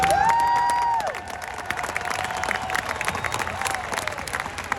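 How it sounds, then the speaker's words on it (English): A crowd applauds and cheers at a ceremony honoring a World Series championship baseball team's coaches and managers, steady clapping after a brief whistle-like tone at the start. "When you think of those 4 together, that deserves a round of applause"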